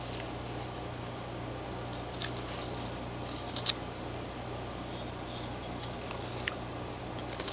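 A knife whittles wood on a figure carving, giving faint, soft scraping and shaving strokes with a few sharper clicks over a steady low background hum.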